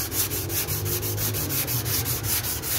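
Car body filler is dry-sanded by hand in quick, even back-and-forth strokes. The rasping rubs are close and steady, with no voices.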